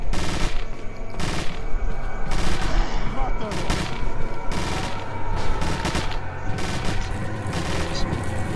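Loud, close TMP submachine gun fire in Resident Evil 4 Separate Ways, coming in repeated rapid bursts with short gaps between them over dense game noise.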